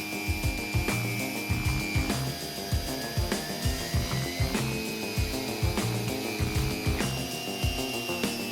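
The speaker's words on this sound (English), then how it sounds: "I went to town with a foam pad on my sander, removing the worst of it" Power sander with a foam pad working over the live edge of an oak shelf slab, a loud, close motor whir with rhythmic scraping pulses and knocks as the pad is pushed back and forth.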